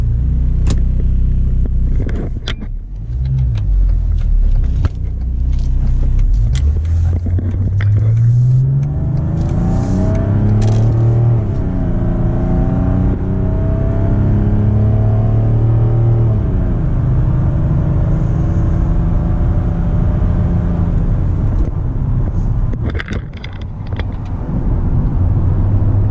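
A Mercedes E300 with the OM606 diesel engine revs up loudly and close, the pitch climbing steadily over several seconds and holding high before settling, with a steady engine rumble throughout and no talk.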